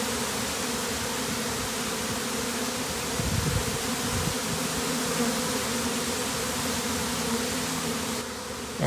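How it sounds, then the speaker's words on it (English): A dense swarm of honey bees buzzes loudly and steadily nearby, a continuous droning hum with a few individual bees passing closer. "A lot of bees."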